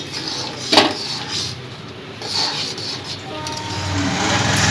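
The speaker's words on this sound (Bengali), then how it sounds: "এইভাবে ঘন ঘন নাড়তে হবে, তা না হলে তলে লেগে যাবে" Raw mango pulp boils in a pan on a gas stove while a utensil scrapes and stirs it, with a sharp clank early and steady bubbling and scraping, close by.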